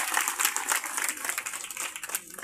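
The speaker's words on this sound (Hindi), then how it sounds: "जोरदार ताली बजाओ क्या से।" An audience applauds at a stage welcoming ceremony for seated guests, a steady, bright wash of clapping with fluttering peaks that continues throughout at moderate level.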